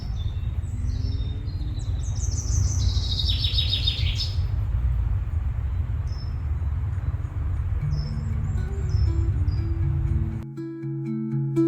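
Bright chirping birdsong rings out over a constant low rumble of background noise on a trail at Meteora, Greece, with a few scattered calls following.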